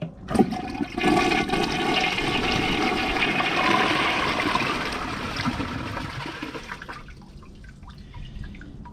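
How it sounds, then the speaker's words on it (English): A 2006 Mansfield Alto toilet flushes with a loud, close rush of water that surges for about six seconds, then drains away into softer trickling and dripping as the bowl refills. "Before we do the tests, let's give it a flush."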